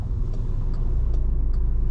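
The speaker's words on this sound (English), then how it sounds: "Demonstrate the capabilities of the Golf R." A 2013 VW Golf R hot hatch accelerating, heard from inside as a steady, heavy low engine rumble with road noise, loud and continuous with no talk.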